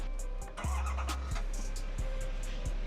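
A heavy Chevy Silverado 2500 truck, a 5,828 kg build, cranks and fires up, then settles into a deep steady idle rumble close by, with a few sharp knocks over the running engine.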